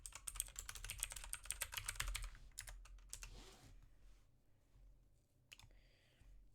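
Rapid typing on a computer keyboard, dense clattering keystrokes for about three seconds, then a few scattered taps and a pause before a final keystroke, close and fairly quiet.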